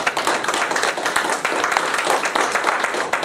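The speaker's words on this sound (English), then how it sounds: "So would y'all give this brother a round of applause?" Audience clapping to welcome a performer at a Chicago magic event, a steady dense patter of many hands, fairly close and sustained throughout.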